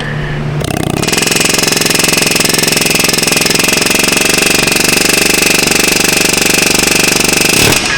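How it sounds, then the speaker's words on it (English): Air hammer working on a rusted steering knuckle of a 2018 Jeep Compass, a loud, rapid continuous metallic hammering that starts abruptly and runs steadily up close. "you come in with an air hammer and just very gingerly just massage this knuckle while you're wiggling it"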